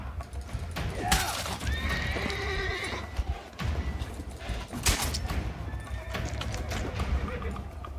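A horse whinnies loudly twice over clip-clopping hooves and game-like background noise in The Witcher 3: Wild Hunt – Blood and Wine, with a sharp crack near the middle.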